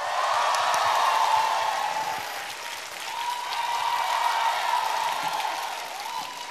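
A studio audience at a televised singing competition applauds loudly and steadily, a dense wash of clapping with faint cheers that swells and eases without pause.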